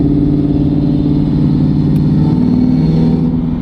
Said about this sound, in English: now all you get is that supercharger whine up front